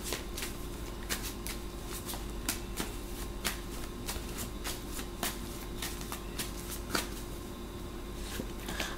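Tarot cards are shuffled by hand in a quiet room, producing repeated crisp riffling bursts at an uneven pace, close and soft, with no talking.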